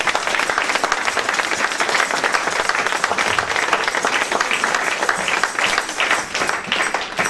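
A church congregation breaks into sustained applause, dense clapping from many hands filling the space evenly for several seconds, with no speech over it.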